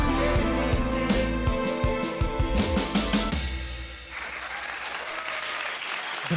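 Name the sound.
audience applause at a concert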